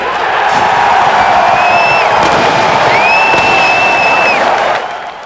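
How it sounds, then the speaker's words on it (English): A large crowd at the Bradley Center in Milwaukee cheering a Bucks draft pick, a loud sustained roar with whoops and high shouts and whistles, fading at the end. "While Bogut was a happy man in New York, a big crowd watching the draft in the Bradley Center was also pleased with the pick."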